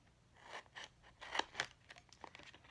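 Scissors snip out the corners of a flap on a handmade champagne foil box, a quick run of close, crisp cuts and crinkles of foil, several sharp snips clustered near the middle, with no talking.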